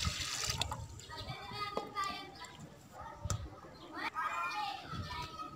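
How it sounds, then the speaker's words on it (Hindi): Water is poured into a karahi while beef masala cooks, a running, splashing pour heard in bursts, with voices and children talking in the background. "अब कढ़ाई में शामिल करेंगे पानी।"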